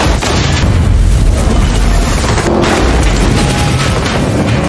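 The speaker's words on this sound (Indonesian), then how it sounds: "ledakan yang menciptakan gumpalan asap itu berhasil menyulitkan pandangan helikopter" A fireworks explosion throws out puffs of smoke during a chase involving a helicopter and cars, a loud, sustained booming roar that rumbles for several seconds and then cuts off abruptly.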